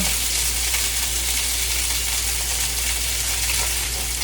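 Cabbage frying in a pan, a steady, loud sizzle and hiss that runs without a break and never rises or falls.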